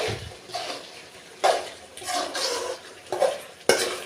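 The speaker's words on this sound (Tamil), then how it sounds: "கிளறி விட்டுக்குவோம்." A spoon stirs country chicken rasam in a cooking pot, making soft swishing sounds with a few sharp clinks and scrapes against the vessel, close by and fairly quiet.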